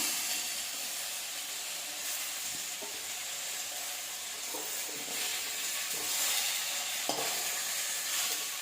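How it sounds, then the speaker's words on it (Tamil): Drumstick leaves sautéing in a hot pan give a dense, continuous hissing sizzle with faint stirring scrapes now and then, close by and steady throughout, with no voices. "இதையும் கொஞ்சம் லேசாக வதக்கிக்கலாம். கொஞ்சமாக வதக்கினா போதும், ரொம்ப வதக்க தேவையில்லை."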